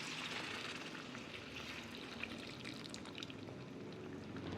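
Lukewarm water poured into a pan of cooking chicken, producing a soft continuous splashing, bubbling wash, faint and steady throughout.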